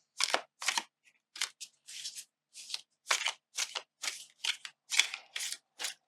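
Overhand shuffling of a Kawaii tarot card deck, heard alone and close as a run of about a dozen short, crisp riffling bursts separated by brief pauses.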